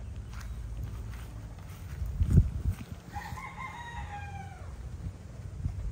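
A young rooster (stag) crows once, a rising then falling call at moderate distance, after a few footsteps and shuffling over a steady outdoor hum.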